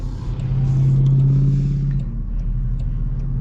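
A Land Rover Defender with no power steering drives along with a deep, steady engine rumble. A low drone swells briefly as the engine works harder, then settles back to a constant road roar.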